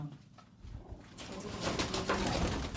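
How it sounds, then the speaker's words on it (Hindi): Pigeons in a loft coo softly amid a rising bed of fluttering, shuffling and rustling, with a few low coos near the start and busier, louder movement noise building toward the end. "अच्छा गोल हुआ कबूतर है"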